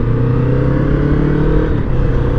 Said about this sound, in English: stock exhaust, it does sound kind of like a sewing machine